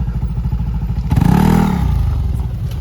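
A motorcycle on a rough, potholed track near Daraitan, Tanay, Rizal idles with a rapid throbbing pulse, then revs up into a louder rising and falling engine whine before settling back to a chugging idle, close to the listener.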